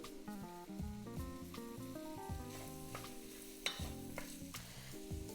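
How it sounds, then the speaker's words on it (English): Onions and red pepper sauté in a pan for a chili, with a steady loud sizzle and frequent stirring scrapes, including one sharper knock partway through, and no talking. "Now I'll saute these until they're soft and then start adding other ingredients."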